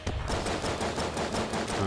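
Turrets fire in the video game Exit the Gungeon, sending a fast, steady stream of rapid popping shots over busy game noise, loud and continuous with no talk.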